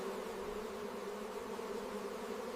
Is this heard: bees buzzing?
yes